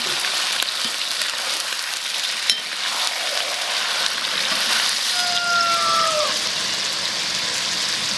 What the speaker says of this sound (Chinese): 现在把这个鸭肉全部下锅炒